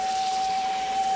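Water sprays hard and steadily from a shower head in a 2018 Salem Cruise Lite 261 BHXL RV, a loud, continuous close hiss with a faint steady tone underneath and no voices.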